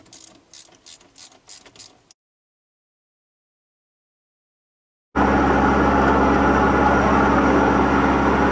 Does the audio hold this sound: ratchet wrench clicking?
yes